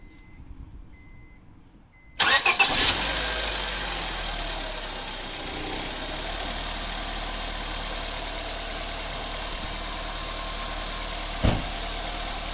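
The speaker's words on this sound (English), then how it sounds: "Let me just start up the car for you guys so you guys can hear the VTEC kicking" A 2001–2005 Honda Civic engine cranks and catches after a quiet moment, then settles into a steady, loud idle with a faint knock near the end.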